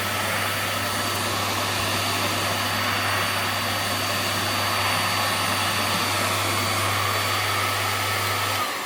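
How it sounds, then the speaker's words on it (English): A VAX Mach Air vacuum cleaner runs with its hose attached, a loud, constant airy roar with a steady low motor hum throughout and no talking. "And then you can start vacuuming using your hose"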